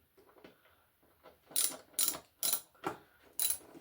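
A ratchet tightens the sump bolts on a classic Austin car in a series of short, sharp metallic clicking bursts, about five distinct strokes close by.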